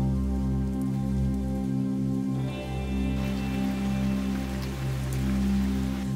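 Steady rain falling in an abandoned mansion gutted by fire, a continuous soft hiss under prominent background music with no talking.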